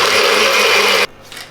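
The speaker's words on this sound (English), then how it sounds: "But we got the blender going now." A kitchen blender whirs loudly while blending a blueberry shake, a dense high motor roar that cuts off abruptly near the end, leaving a brief quiet tail.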